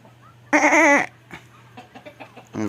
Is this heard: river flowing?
no